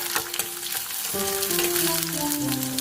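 Tomato and onion frying in a pan for an aloe vera curry, a dense continuous sizzle with light crackles and occasional stirring, close and alone without speech.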